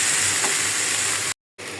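Rui fish curry with spices sizzles loudly in a pan as the fish goes in, a dense, steady close frying hiss broken by a brief cut of silence.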